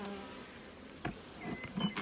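Bees buzz around an opened hive during a beekeeping inspection with smoke, a soft, brief drone that swells near the end.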